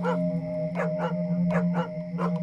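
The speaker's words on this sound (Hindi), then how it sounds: "एक आवारा कुत्ता जो मुझे देखकर भौंकने लगा" A stray dog sleeping beside porters' handcarts barks at a passer-by at night, several separate barks in a loose rhythm over a steady low hum, fairly close and clear.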